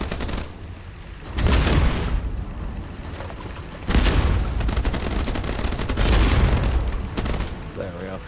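Cannon fire in the naval video game Age of Water: heavy booming volleys burst out in three loud waves over a constant roaring battle backdrop, with no talking.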